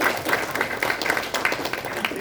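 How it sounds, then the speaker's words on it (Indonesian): Audience in a school gathering applauds together, a steady wash of many hands clapping at moderate distance with faint voices mixed in, lasting throughout. "Tepuk tangan untuk kita semua."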